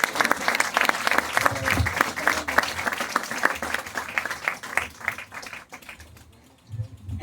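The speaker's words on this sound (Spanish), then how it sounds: "Denle un fuerte aplauso al Señor." A church congregation bursts into sustained applause at an evangelist's service in Valledupar, Colombia, dense clapping that fades out near the end before a few loud hand claps return.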